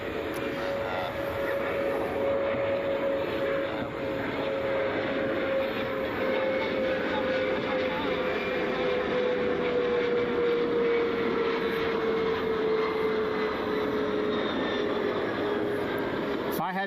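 An airplane arriving at Cleveland Hopkins International Airport fills the air with a steady, loud engine roar and a slowly falling whine that holds throughout, with no talking.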